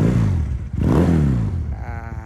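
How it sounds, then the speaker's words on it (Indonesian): Custom street bobber Benelli Patagonian Eagle 250 motorcycle engine revving up hard and dropping back, close and loud, with a strong burbling exhaust note and no talk. "ini adalah suara dari motor Benelli Patagonian Eagle yang sudah di custom"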